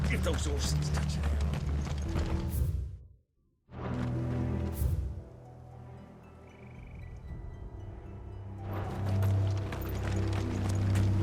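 Horse hooves clip-clop amid the score and battle ambience of Final Fantasy XVI, loud and layered with music, dropping out briefly before resuming with rising intensity.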